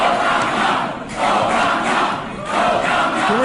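A large protest crowd shouts and chants in loud, surging rhythmic waves, rising and falling, with no single voice standing out.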